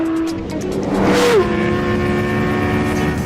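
A 2017 Audi R8 V10 Plus engine pulls hard at high speed on a straightaway, its loud, steady high-rpm roar with a brief pitch shift and whine around a gear change, then sustained strong acceleration.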